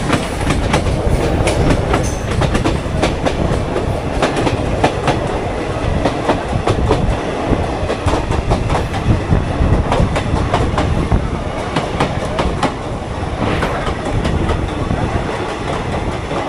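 A commuter train running past Naihati junction towards Sealdah, loud and close, with a continuous rumble and rapid rhythmic clickety-clack of wheels over rail joints throughout.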